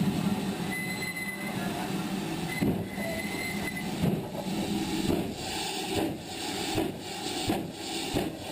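A heritage train on the Llangollen Railway heard from the cab as it reverses from Corwen East, with a steady rumble of wheels, rhythmic rail-joint clunks and faint squeals, continuous and close.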